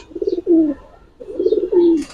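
Old-breed Giribaz pigeons coo close and loud in two distinct rolling phrases, each ending in a drawn-out moan, with a short gap between them.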